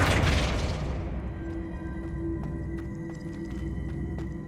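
Flipendo spell cast in the video game Hogwarts Legacy: a deep booming burst at the start that fades into a low, rumbling ambient tail with faint high tonal glints.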